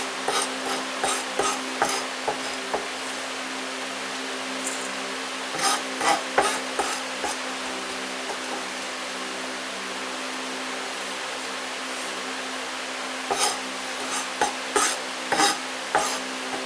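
Finely chopped pemmican ingredients are mixed together in a bowl, giving bursts of close scraping and rustling strokes that alternate with quieter pauses.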